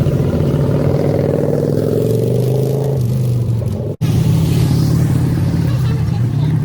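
A motorcycle engine revs and rumbles loudly up close during a wheelie at a motorcycle rally, rising in pitch, then cutting out briefly before roaring on again, with a voice cheering over it.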